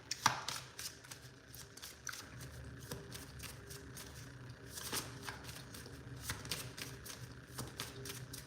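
A deck of chakra oracle cards is shuffled by hand for a reading: repeated quick riffling flutters and soft card slaps in an irregular rhythm, close and fairly quiet, with no voices.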